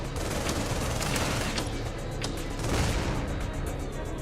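A missile barrage fired in the high-speed mecha game Project Nimbus roars as one dense, continuous wall of rapid launches and blasts, steady and loud from start to finish.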